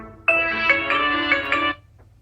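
An Honor View 20 phone plays its ringtone, a bright, close electronic melody of a few pulsing tones lasting under two seconds before cutting off.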